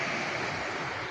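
A waterfall in the Ain countryside in autumn, a steady broadband rush of falling water, continuous and fairly distant with no voices.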